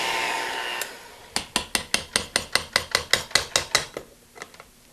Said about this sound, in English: Let me scrape those sides down.